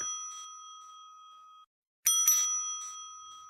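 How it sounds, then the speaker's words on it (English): A bicycle-style bell dings in two bursts, with a clear ringing tone that decays before a short silence and then a second, louder flurry of rapid rings, heard alone with no talking. "stop ringing that goddamn bell"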